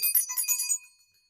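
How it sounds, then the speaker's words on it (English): A small hand bell rung several times in quick succession, bright and close, ringing on in a steady shimmer for under a second before fading out to quiet. "I'm gonna take my mom's bell"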